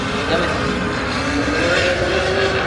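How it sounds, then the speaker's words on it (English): Lamborghini sports cars revving and ripping past on a Miami street, a steady loud engine roar with rising and falling tones throughout, heard from nearby as background to the scene. "You hear that in the background, Lamborghinis ripping"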